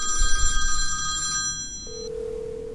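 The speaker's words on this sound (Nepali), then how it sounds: "यति नै बेला फोन आउँछ" A telephone rings indoors in a home with bright repeating electronic ring tones, followed by a single steady tone, close and clear with no talk.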